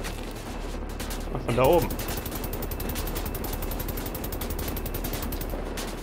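Gunfire in the shooter game Wolfenstein: The New Order plays as rapid, sustained bursts of automatic fire throughout, with someone speaking German briefly over the shooting.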